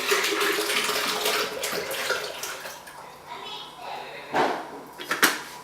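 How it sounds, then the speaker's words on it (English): A half gallon of unpasteurized fresh-squeezed orange juice dumped into a container in one go, a steady gushing, splashing pour close by, tapering off with a few final glugs. "So I have about a half gallon of orange juice. I'm going to just dump the entire thing in there."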